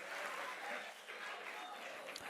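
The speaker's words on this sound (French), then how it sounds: "Est-ce qu'on peut applaudir pour Joel, s'il vous plaît, pendant qu'il regagne le backstage?" A studio audience at a live French-language morning show applauds a performer as he heads backstage, a steady wash of clapping at moderate distance throughout.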